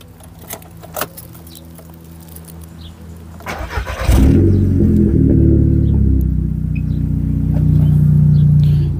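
A warm Volkswagen Golf 6R engine cranks and fires after a few seconds of quiet clicks and key jangles, then settles into a steady, loud, close idle with a deep rumbling burble.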